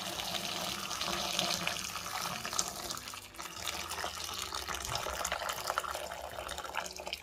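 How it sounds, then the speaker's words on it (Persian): Boiling water pours continuously over peeled tomatoes in a pot or bowl, a close, even splashing with faint clinks of dishes. "آب جوش رو میزنیم، باز میکنیم روش."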